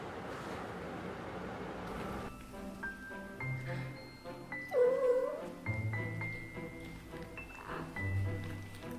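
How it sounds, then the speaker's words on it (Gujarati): A domestic cat meows a few times, short drawn-out calls rising over a light musical backing and faint background noise, fairly quiet overall. "હા, આ છે બિલાડી."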